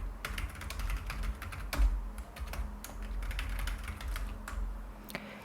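Quick, steady clicking of computer keyboard keys as data is entered for an accounting exercise, close and continuous with no talk over it.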